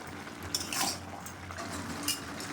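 Cabbage and prawn curry with potato being stirred in a pan, a few light metallic clinks and scrapes of a spoon against the pan over a quiet background, no talking.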